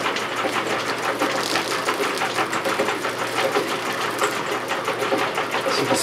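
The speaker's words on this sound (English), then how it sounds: "to give you an idea of how the spreader works, I'm going to turn on the machine." A fabric spreader on a continuous loop pad dye machine runs with a fast, steady mechanical chatter and whir, loud and close, unbroken for the whole stretch.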